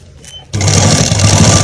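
Sewing machine stitching a neckline on a garment, starting after a quiet half second and then running loud and close in a fast, steady mechanical whir.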